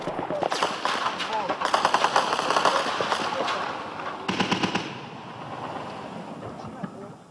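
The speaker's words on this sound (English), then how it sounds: "Reinforcements arrive on the road under heavy fire." Heavy gunfire during a battle as rebel reinforcements advance on a road near Tripoli, Libya: rapid overlapping bursts of automatic fire, loud and close, with shouting voices mixed in and a sharp fresh volley midway before it thins out.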